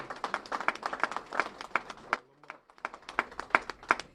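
Audience applauding the Jones family at a gathering, a brisk burst of clapping from a moderate crowd, briefly pausing midway before resuming, fairly close.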